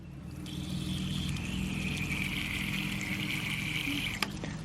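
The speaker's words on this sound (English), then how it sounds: "Let's go ahead and open this valve here to let water into the drive pipe. Some nice dirty water." Dirty water rushes steadily through an opened valve into the spiral drive pipe of a homemade ram pump, a constant loud flowing hiss with a faint whine, ending in a brief knock.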